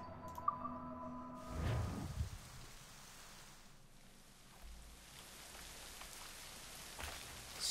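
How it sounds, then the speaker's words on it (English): Steady rain hisses across a video game scene in Assassin's Creed Rogue, a soft continuous wash with a few brief thumps early on and no voices. "Still raining."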